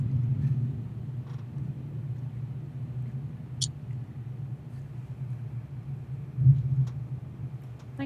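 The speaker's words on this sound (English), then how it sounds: "I think I'm getting a little bit of thunder on my mic." Low, distant thunder rolls as a continuous muffled rumble under faint background noise, with a slightly louder swell near the end and a few small clicks.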